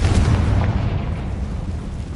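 A Confringo spell explodes in Hogwarts Legacy with a heavy, dense boom that rolls on as a loud low rumble and slowly fades, with no voices during it.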